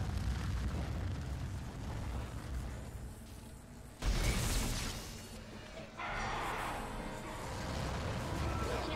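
A giant fire roars through ship vents in the sci-fi horror game Dead Space, with a sudden loud whoosh surging midway over a low rumbling background and a second rise afterward.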